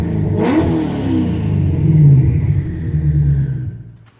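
A turbocharged car engine set to its normal, stock-like mode revs up with a deep throaty rumble and a brief sharp blip at the start. The revs swell and hold, loud and close, before dropping away at the end.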